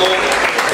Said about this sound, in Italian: Bene, un bel applauso allora di nuovo e proseguiamo